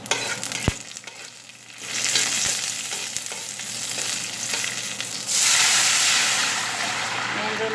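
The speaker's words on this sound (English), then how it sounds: "the mustard seed is popping out" Mustard seeds pop and fry in a hot pan with loud, continuous sizzling and scattered sharp crackles. A louder hissing burst follows, as if something wet is added, and a faint voice is heard near the start.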